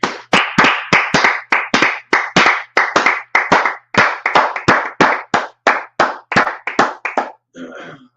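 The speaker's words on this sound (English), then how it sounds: "Let's clap it up." Steady rhythmic hand clapping during a Tuesday night class, about twenty loud, evenly spaced claps in a continuous beat that stops near the end, followed by a brief fainter noise.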